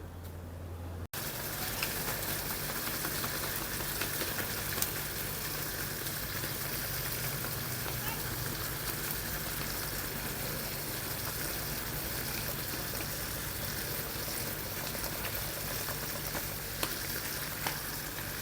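Dumplings fry in a pan, giving a steady crackling sizzle that starts after a brief pause and holds at an even, close level with occasional sharper pops throughout.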